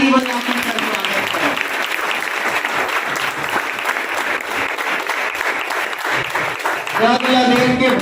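Loud, sustained applause from an audience welcoming a newly selected CGPSC 2020 candidate, an operating inspector, filling the whole stretch and swelling again near the end, with people talking over it at times.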